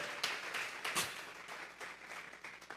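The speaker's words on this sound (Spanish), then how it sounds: "Vamos a regalarle ofrenda de palmas al Dios de la gloria." A church congregation claps during a Sunday service, faint and scattered hand claps with a few sharper individual smacks, rising and falling irregularly.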